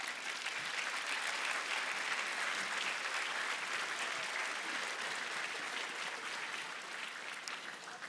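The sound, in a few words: audience applause at sports centre opening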